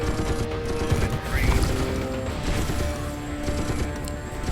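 Rapid bursts of automated turret fire in a top-down tactical shooter, The Red Solstice, crackling continuously over mechanical clatter with a voice faintly underneath.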